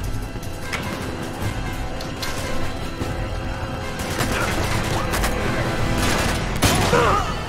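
Sniper gunfire and heavy combat in the video game Uncharted 2, with a steady wash of shots, crashes and mechanical clatter building over several seconds and a sharp loud crack near the end.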